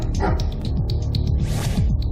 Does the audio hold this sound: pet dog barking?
yes